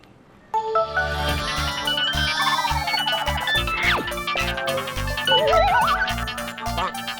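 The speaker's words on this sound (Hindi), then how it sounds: "तुम्हारे फोन बज रहे हैं ना, तो उठाओ" A mobile phone ringtone plays loud and continuous for about seven seconds, a bright melodic tune with rising electronic sweeps over a steady beat, ringing while the owner wears a helmet in a Hindi comedy sketch.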